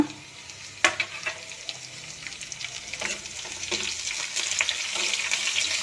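Pandan and curry leaves fry in a pan, crackling and sizzling steadily with scattered sharper pops and stirring scrapes, growing slightly louder over a few seconds, with no voices.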